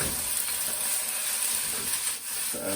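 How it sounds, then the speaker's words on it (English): Peppers, onions and bean sprouts sizzle and crackle steadily in a hot pan for Singapore noodles, with a brief scrape of stirring near the end; no talking. "some peppers, some bean sprouts, and then stir this around, break it up a bit"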